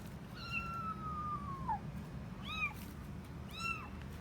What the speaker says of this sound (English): So this morning I heard a meow in my garage.